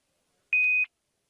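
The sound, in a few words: beeping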